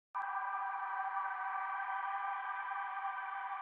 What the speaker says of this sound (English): So to make some nice sounding atmosphere like that, you're just gonna wanna get a basic synth sound going